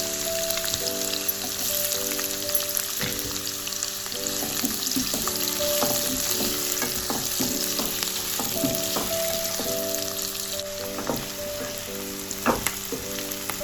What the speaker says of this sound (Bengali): এবার পেঁয়াজটাকে আমি কুচি করে নিয়ে এই তেলটার মধ্যেই ভেজে দেবো